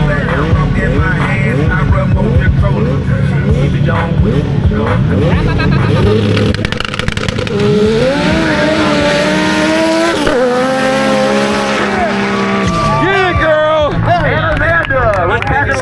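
Drag racing cars launch down the strip in a women's head-to-head final, their engines roaring loudly and continuously with rising revs and tire squeal, while people talk over the noise.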